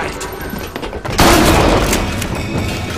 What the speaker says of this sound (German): Puff, zwei mit einem Schuss,